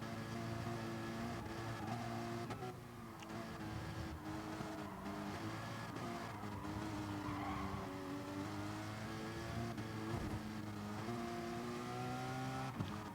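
GT4 race cars in GT Sport, several engines droning and revving together with shifting pitch, tires squealing as cars slide, loud and continuous throughout the racing.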